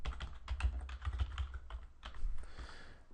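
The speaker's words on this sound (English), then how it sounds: "we will type in our host and instance name" Typing on a computer keyboard while entering a host and instance name: a steady patter of close key clicks and taps in quick, uneven rhythm, alone with no talk.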